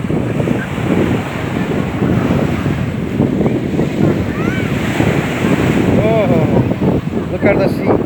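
Sea waves break and wash onto a beach near the Burj Al Arab in Dubai as a steady loud surf with wind buffeting the microphone, while someone talks over it.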